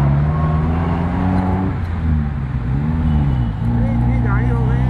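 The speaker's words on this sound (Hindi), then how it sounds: "ये मेन रोड है ना, ये तो ये इसमें बहुत ट्रैफिक रहता है" Steady road traffic rumbles on a busy main road in Mumbai, heard from inside a moving vehicle, a continuous engine and tyre drone running beneath a voice talking throughout.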